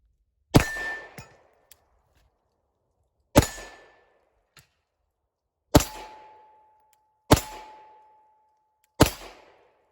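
Five sharp gunshots at an outdoor shooting range, spaced a few seconds apart, each a loud crack with a short ringing decay and faint metallic ping.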